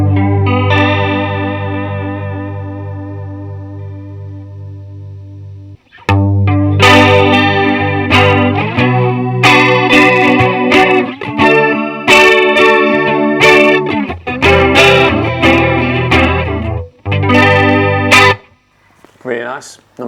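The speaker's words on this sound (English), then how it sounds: "Number 6, a lovely analog chorus." Electric guitar through an analog chorus effect on a Line 6 ONE pedal: a sustained shimmering chord, a brief pause, then loud strummed and picked chords with a wavering, doubled tone.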